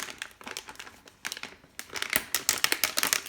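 Crinkly plastic packaging around a pair of cross-stitch pliers being worked open by hand, with a steady run of close, loud crackling and crumpling bursts and a short lull partway through.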